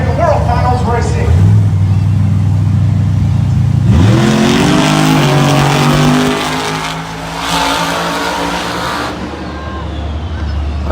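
Monster trucks race at the Monster Jam World Finals, engines roaring and revving loudly with accelerating surges and some skidding, while a voice talks over the noise.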